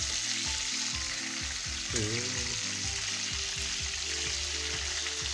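Meat cutlets frying in hot oil in a pan, a steady close sizzle and crackle throughout with faint background tones.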